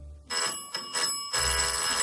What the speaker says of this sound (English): let's see if I throw the switch, if the bell will ring